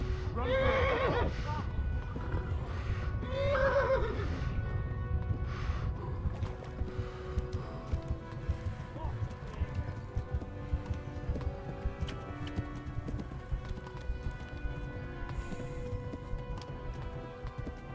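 A horse in the Kingdom Come Deliverance video game gallops with steady clip-clop hoofbeats and whinnies loudly and close near the start, over a dense, continuous game soundscape.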